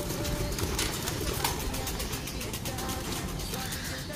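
Domestic pigeons coo steadily in a loft over a dense, noisy outdoor background, the soft calls continuing throughout without clear breaks.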